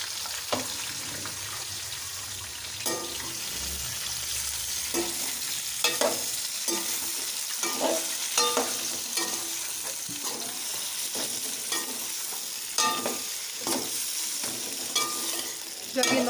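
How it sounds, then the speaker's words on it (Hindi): Okra (bhindi) sizzles and fries steadily in hot oil for masala bhindi, with occasional stirring scrapes and clatters over the continuous crackle. "तो ऑयल गर्म हो चुका है, अब इसमें हम भिंडी ऐड करेंगे।"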